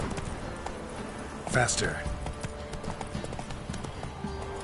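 Roach, Geralt's horse in The Witcher 3, gallops with a steady clip-clop of hooves throughout, mixed with game ambience, while someone speaks briefly over it.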